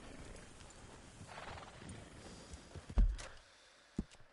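Horse sounds from Red Dead Redemption 2 in Saint Denis: steady clip-clop of hooves with a couple of sharp thumps, and a whinny somewhere in the mix.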